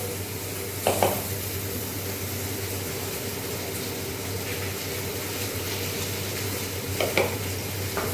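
Potatoes and onions sizzle in a pan on a home stove with a steady frying hiss. Two short, louder scrapes of stirring stand out near the start and again near the end.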